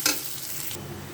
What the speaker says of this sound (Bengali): পেঁয়াজটা বাদামি রং আসা পর্যন্ত ভাজতে থাকবো